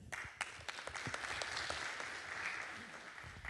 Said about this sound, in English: please give a round of applause to Carlo Ratti.